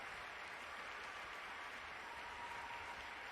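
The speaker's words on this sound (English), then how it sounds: "The cheering is very interesting." Crowd at The International 10 Dota 2 esports tournament cheering and applauding in a steady, dense roar that fills the whole moment without breaks, with no clear voices on top.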